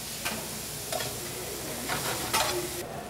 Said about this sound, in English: we're going to saute these onions right here until they start turning a little opaque